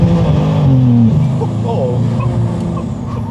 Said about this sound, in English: Brake gas to the floor and release it when you feel the boost kick in.